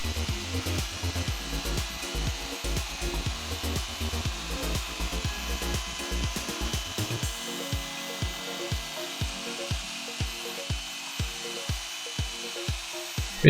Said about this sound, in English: when I'm using the polisher, I try to do an up and down, back and forth crosshatch pattern to make sure it's polished evenly as possible